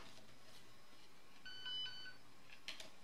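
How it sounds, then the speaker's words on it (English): A payment card reader on a Jura Impressa S95 coffeemaker gives a short, faint double beep midway, two quick tones over quiet room hum. "And then it will double beep."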